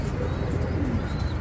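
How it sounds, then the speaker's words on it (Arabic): King pigeons coo softly and steadily through a continuous, close, fairly loud stretch, with a dense low murmur of calls and no voices over them. "شاهد حمام كينج"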